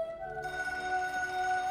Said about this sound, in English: You're supposed to answer the phone.